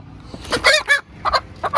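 A backyard hen being chased near the coop door gives short, loud clucking bursts, a few quick calls in two uneven clusters with brief pauses between them.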